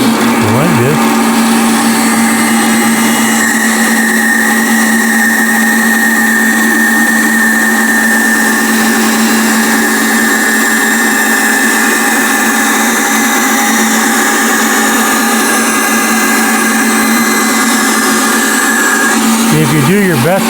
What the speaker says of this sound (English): Now we're just going to cut it on the bandsaw.